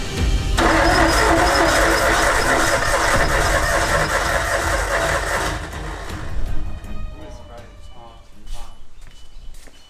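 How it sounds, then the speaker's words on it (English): A Nissan R32 Skyline engine cranks and runs roughly with uneven, sputtering misfiring bursts, then fades into a rough idle while people talk nearby. "It's misfiring really bad, and when it's a bit cranking, knocky"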